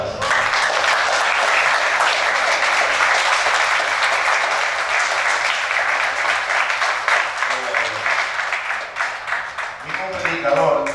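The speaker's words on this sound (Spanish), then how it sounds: "Denle un aplauso al Señor." A church congregation applauding together, a dense sustained wash of clapping that stays loud for most of the stretch before thinning near the end, with voices mixed in beneath it.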